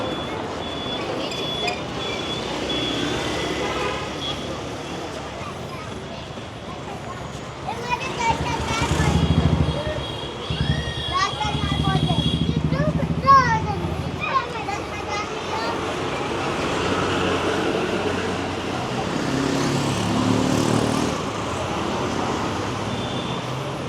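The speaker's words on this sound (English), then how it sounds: "Mandatory to honk all day?" Car horns honk again and again through busy Mumbai street traffic, loudest in a mid-stretch cluster, over a steady roadway rumble and background crowd chatter.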